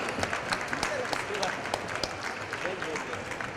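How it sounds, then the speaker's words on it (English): Audience applause at a book launch event, a fairly faint, continuous patter of clapping from the crowd with voices talking over it. "A round of applause, everybody."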